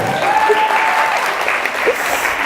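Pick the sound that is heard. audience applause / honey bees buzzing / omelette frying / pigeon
audience applause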